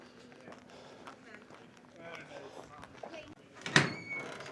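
At Timberline Lodge on Mt. Hood, the front door opens with a sharp knock and rattle, and footsteps follow as someone walks in. The sounds are soft and low under faint talk.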